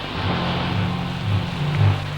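Steady rain falls as a loud, even wash of noise, with a faint low hum running underneath.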